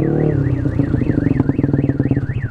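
A Toyota Avanza car alarm wails nearby, set off by a loud Yamaha Aerox motorcycle, its tone sweeping up and down in rapid repeated cycles over a rumbling engine.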